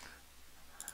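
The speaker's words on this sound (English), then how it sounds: "I'll click a few landmark pairs now." Two quick, faint mouse clicks near the end of a quiet stretch, made while placing landmark point pairs on a computer, close and dry with no talking.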